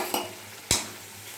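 Chili and turmeric powder frying in oil in a pan, with two short scraping stir strokes rising over a faint, steady background sizzle.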